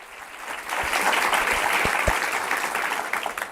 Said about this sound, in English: You have been welcomed by this really wonderful applause of everyone here in the Focolari Center.